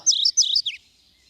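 A recorded song of a warbler with no wing bars plays: a quick run of high, bright chirped phrases repeated about three times, then a short trailing note, clear and alone against silence.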